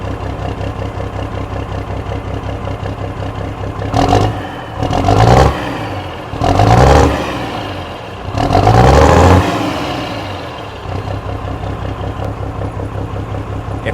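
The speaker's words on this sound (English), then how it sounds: "Komatsu's already running, so you can hear that in the background" A Komatsu machine's engine drones steadily, with several louder revving surges rising and falling over its low rumble.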